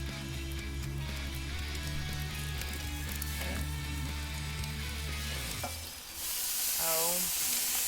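Ribs sizzle loudly on a hot grill with high flames, a steady crackling fry with a humming tone underneath, broken by a clunk as the meat is flipped and followed by a brighter hiss.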